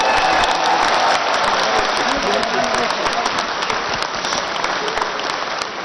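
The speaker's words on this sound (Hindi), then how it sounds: "एक बार जोरदार 10 सेकंड तक ताली बजाओ।" A large crowd at a yoga foundation day gathering claps loudly and continuously, a dense wash of applause that holds steady for the whole stretch.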